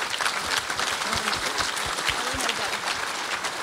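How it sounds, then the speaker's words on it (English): An audience at a Buddhist community centre gathering applauds the event volunteers, with a steady wash of clapping throughout and some voices mixed in. "I think they must deserve a huge round of applause"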